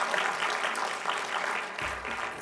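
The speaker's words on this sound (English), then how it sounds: "We give them a round of applause anyway." Sustained audience applause fills a pitch event crowd, a dense, even wash of clapping at steady loudness throughout, with no speech over it.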